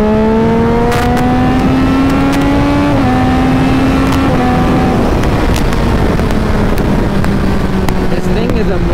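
A motorcycle engine is held near redline and shifted without the clutch, a loud, close, strained drone that steps down in pitch at each quick shift, under steady wind roar.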